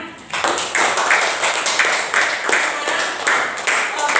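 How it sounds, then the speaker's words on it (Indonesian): A classroom group claps together in steady rhythmic bursts, loud and close, a repeated pattern of applause with voices mixed in. "Tepuk tangan."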